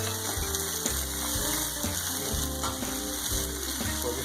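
Garlic and ginger sizzle steadily on a hot Blackstone griddle, a continuous crackling hiss with faint ticking at close range and no talking.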